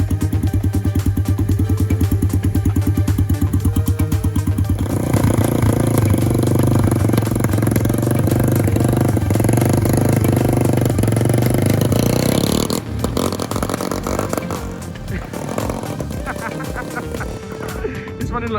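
A Sinnis Stealth 125 motorcycle, running poorly, revs and putters nearby with a rough, uneven throb that rises in intensity midway and then settles and fades toward the end, with occasional voices in the background.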